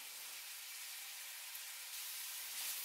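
Chopped carrots, cabbage and green beans hiss and sizzle steadily in hot oil, a close, even frying noise filling the pan with no talk over it.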